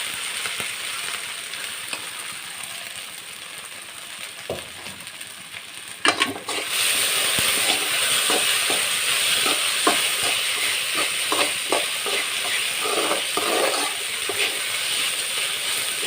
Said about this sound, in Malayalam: ഒരു ശകലം എണ്ണ വെളിച്ചെണ്ണ ഒഴിച്ചു കൊടുക്കാം നമുക്ക് ഉപ്പിപ്പറ്റി വെച്ചിരിക്കുന്ന വെണ്ടയ്ക്ക ഇട്ട് കൊടുക്കും